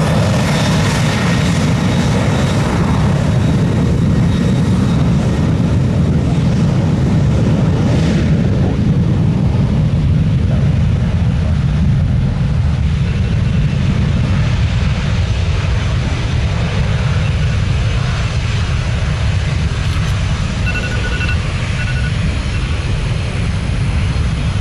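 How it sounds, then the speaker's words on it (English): Heavy jet airliner engines roar loud and steady at Tampa airport, a broad continuous rumble filling the whole stretch with no talk over it. "I hear a heavy jet."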